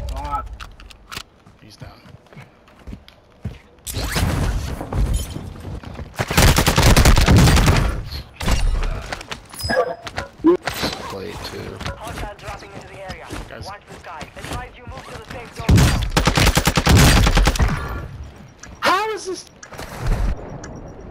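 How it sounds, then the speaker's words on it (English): Heavy bursts of automatic gunfire in Call of Duty Warzone on Ashika Island, loud sustained volleys twice with scattered shots between, while players talk throughout. "I'm getting shot from down low here."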